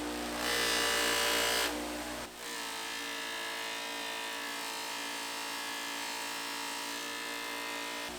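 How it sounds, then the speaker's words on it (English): Steady whirring buff of a loose sewn polishing wheel with white compound working a metal part, a brief harsher contact at the start, then an even, moderately quiet hum. "We should be able to bring out the rest of the shine with what's called a loose sewn wheel"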